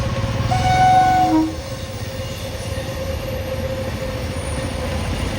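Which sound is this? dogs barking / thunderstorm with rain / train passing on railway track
train passing on railway track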